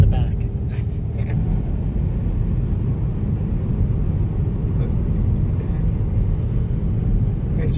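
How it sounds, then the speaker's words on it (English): Steady low road rumble inside a Ford Mustang Mach-E electric SUV cruising at almost 70 mph, a constant broadband hum that fills the cabin throughout with faint voices speaking over it. "We're going almost 70 miles an hour. Road noise is barely 60 decibels. It's really quiet in here."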